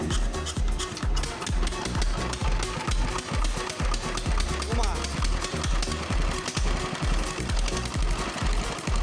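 An EM185 China diesel engine, an 8.5 horsepower unit just serviced, chugs at a steady fast idle with rapid, even thumping knocks, loud and close, while someone talks over it.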